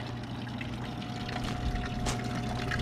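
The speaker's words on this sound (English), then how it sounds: "See the water features here though?" Water feature trickling at a campground in Sigel, Pennsylvania, giving a steady, soft, continuous wash of running water close by with no talking.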